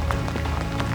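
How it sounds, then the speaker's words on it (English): Steady rain falls in the New Zealand Alps at dusk, a dense, even hiss with scattered soft patters, continuous and close throughout the short stretch with no voices. "the rain is setting in."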